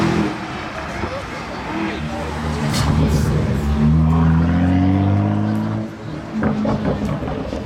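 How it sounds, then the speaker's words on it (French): BMW M2 driving past on a town street, its engine note rising and swelling near the middle, then fading, with voices talking throughout. "Très clean une M2 comme ça."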